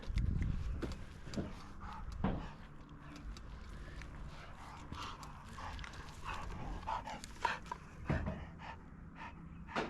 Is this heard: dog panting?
yes